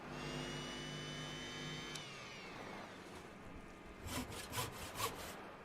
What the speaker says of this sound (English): Sounds like they're drilling and welding in there.